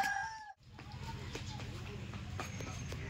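Chickens cluck nearby with a short crowing call at the start, while people talk in the background as small fish are cut outdoors in winter sun.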